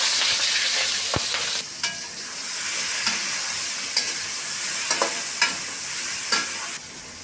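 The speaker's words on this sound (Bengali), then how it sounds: "আমার চিংড়ি মাছটা ভাজা হয়ে গেছে" Prawns rubbed with turmeric and salt fry in hot oil, giving a steady loud sizzle broken by several sharp stirring clatters.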